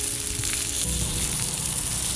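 Salmon sizzling on an oiled shovel over an open fire, a loud steady frying hiss with crackle that continues without a break and is heard alone.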